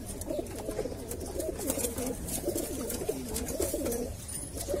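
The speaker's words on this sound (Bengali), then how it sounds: "এখানে কিছু উড়ানোর কবুতর আছে" Flying pigeons coo continuously in a loft, a steady rolling murmur of several birds close by with no talk.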